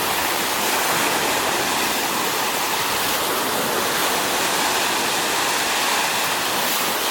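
Surf on the beach at Van Buren State Park in South Haven, Michigan, a loud, steady wash of breaking waves that fills the whole stretch without pause or voices.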